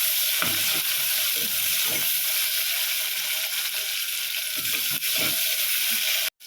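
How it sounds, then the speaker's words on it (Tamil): Dried red chilies and tomato sauté in hot oil with a loud, continuous sizzle, while a spoon stirs and scrapes the pan in short bursts, with no voices. "இது எல்லாத்தையும் நல்லா வதக்கி விட்டுக்கலாம்."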